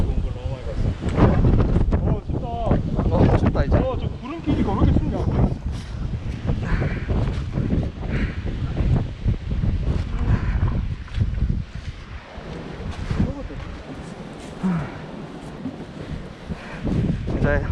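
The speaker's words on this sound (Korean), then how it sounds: "오늘 바람이 너무 불어서 춥습니다" Strong cold wind on a Korean mountain hiking trail with a sea view, continuous rumbling gusts battering the microphone under intermittent talk from a person walking.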